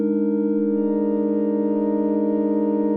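A sustained synthesizer chord from a VCV Rack modular patch, played without FM, holds as a steady, smooth stack of pure tones at constant volume for three seconds, with no talking.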